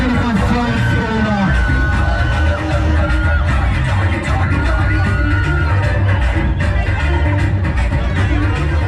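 The crowd at a Kabaddi match in Mirjan welcomes the CRP Warriors team with steady, loud cheering, whoops, yells and clapping, and voices carry through the dense noise.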